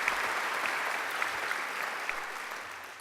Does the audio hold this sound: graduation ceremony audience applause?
yes